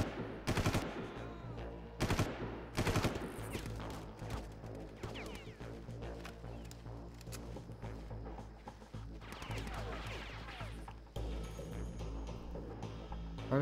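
Gunfire in Far Cry, heard in repeated sharp shots and short bursts over a steady game music bed, with several loud close cracks early on and scattered quieter shots later.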